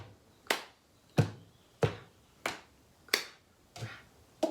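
Hands clap in the steady rhythm of the cup game, six sharp, crisp smacks spaced evenly about two-thirds of a second apart, close and clear with quiet gaps between.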